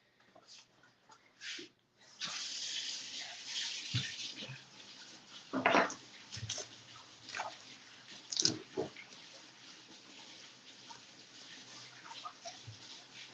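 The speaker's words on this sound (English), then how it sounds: "Please wash this off in the sink." Tap water running into a kitchen sink while food is rinsed, a steady broadband rush with brief clatters and bumps from handling, fairly close and moderately loud, with no talk.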